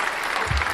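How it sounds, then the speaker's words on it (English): Audience applause at a live talk show taping, a steady dense wash of clapping from a crowd with no voices over it. "I love the clapping now."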